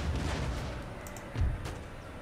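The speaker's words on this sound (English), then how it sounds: "Canister shot." Canister shot artillery fire in the Empire Total War battle game: a rumbling barrage of distant booms and crackling gunfire, with one heavier thud standing out partway through.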